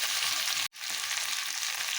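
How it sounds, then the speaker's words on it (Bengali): Potatoes frying in a pan for aloo posto, a loud, close, continuous sizzle that cuts out abruptly for an instant partway through, then resumes steadily, with no one speaking. "আলুগুলো যতক্ষণ ভাজা হোক"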